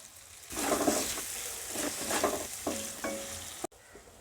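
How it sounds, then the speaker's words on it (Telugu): Chopped tomatoes hit a pan of sizzling masala for a cashew and makhana gravy curry, sending up bursts of hissing sizzle with rhythmic stirring scrapes, close and clear, ending abruptly. "2 టమాటోస్ కట్ చేసి ఇలా వేసుకోవాలి"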